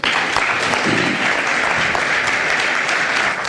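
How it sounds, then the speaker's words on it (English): A large audience applauds the President after a speech in Addis, a dense continuous wash of clapping at close range with no talk. "I think Mr. President deserves a louder round of applause"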